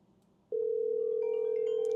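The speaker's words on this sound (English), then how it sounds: "When you call the number, what it'll do is it'll then ring my phone." A call placed to a Twilio phone number produces a steady electronic tone that switches on abruptly after half a second of quiet and holds loud and unbroken, with faint higher beeps layered over it.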